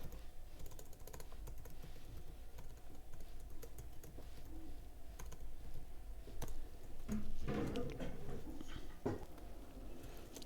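Computer keyboard clattering steadily as code is typed, with a rapid run of close key clicks and a few louder taps near the end, alone without talk.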